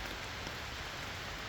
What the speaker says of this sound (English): It's been a fun night of camping and listening to the rain in the hammock